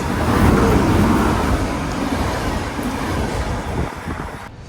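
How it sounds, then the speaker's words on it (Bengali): A train pulls into a station in Barcelona with a loud, broad rumble of wheels and carriages that swells early, then gradually eases and fades as it slows. "এই ট্রেন চলে আসছে"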